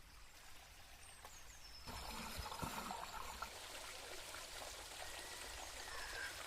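A river flows past and drives a water wheel, a faint continuous rush of water with soft trickles and a few brief splashes, with no voices.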